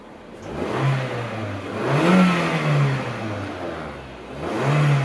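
A 2005 Toyota Yaris 1.3 VVT-i naturally aspirated four-cylinder petrol engine revs up and down in three smooth blips from idle, heard close and alone.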